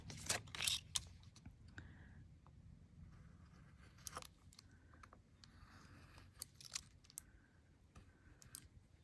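Scissors trimming the edges of an embossed metal tape craft tag, a series of close, sharp snips and clicks at irregular intervals over quiet room tone.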